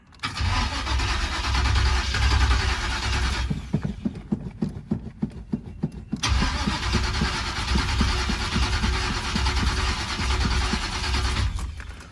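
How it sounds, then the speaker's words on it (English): Small-block Chevy V8 cranking repeatedly without firing after a mechanical fuel pump replacement, long loud whirring crank bursts with a rhythmic chugging break between them, close by and without talk. "Trying to get fuel in that pump. Let's check it. Oh, nope, still nothing. Just keep trying to crank it."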